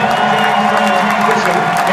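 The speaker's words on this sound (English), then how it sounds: "Fans, let's give one more round of applause to the great Greats" A basketball crowd at a 2013 Creighton Bluejays versus Marquette Golden Eagles conference game roars with loud, sustained cheering and applause, filling the whole moment without a break.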